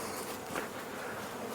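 Stingless bees buzz at a meliponary beside a water source, a steady soft hum of many insects close by, continuous and without talk.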